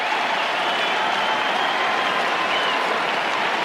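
A stadium crowd of about 30,000 at Perth Stadium roars after a goal in an AFL match between West Coast Eagles and Carlton, a loud, steady wash of cheering and applause that holds at full volume throughout.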